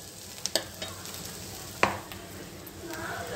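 Capsicum fries in a pan with a steady low sizzle, broken by a few sharp clicks and stirring scrapes from a spoon against the pan, close and moderate in level.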